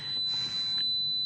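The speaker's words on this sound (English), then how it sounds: "Sorry, this is gonna beep and buzz" A Defi ADVANCE ZD gauge display in a Mitsubishi Lancer Evolution 9 gives steady high-pitched electronic tones, a thin beeping whine held under faint background noise.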